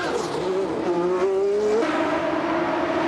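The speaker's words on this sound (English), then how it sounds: "Whoa, look at that power slide." A 1992 IndyCar at the Molson Indy Toronto street race power-slides, its engine wailing steadily with rising and falling pitch and a rough tire-scrub roar, loud and continuous throughout.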